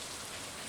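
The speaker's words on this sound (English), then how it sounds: "It is raining today, which isn't the greatest." Steady rain falling in the farming video game Stardew Valley, a soft, even hiss of drops on surfaces throughout, faint and continuous with no voices.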